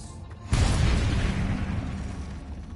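Confringo fire spell in Hogwarts Legacy, cast at a giant spider: one sudden deep blast that hits at once and then rumbles on loud and near until the end.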